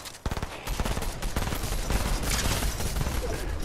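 Rapid gunfire in a ranked video-game match: dense bursts of automatic shots crackle loudly and continuously after a brief quiet start, layered with overlapping reports.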